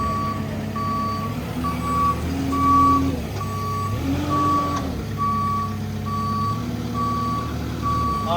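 Forklift reversing alarm beeping steadily in a regular on-off rhythm while a heavy welding table is unloaded from a shop, with a loud diesel engine rumbling and revving underneath, close by and without talk.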